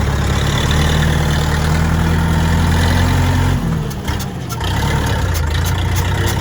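UHI tractor engine running under throttle, a loud steady low rumble close by that dips briefly partway through, then settles back into a continuous drone.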